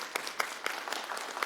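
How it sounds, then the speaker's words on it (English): Applause from attendees at a Coral Springs city commission meeting, a brief burst of scattered clapping at moderate distance in a room, with no voices. "I'll give you a round of applause."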